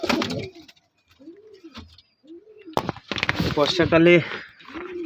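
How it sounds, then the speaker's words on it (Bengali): Pigeons coo in soft, repeated rolling calls on a rainy monsoon day, with brief pauses between them. A person's voice rises over the birds near the end. "পায়রাগুলো মোটামুটি ঠিকই আছে সব।"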